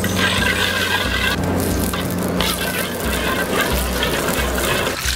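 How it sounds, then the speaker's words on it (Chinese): Water poured into a pot to start caramel color for braised pork leg gives a steady splashing, gurgling rush that runs for about five seconds alongside background noise. "我加点水熬点糖色"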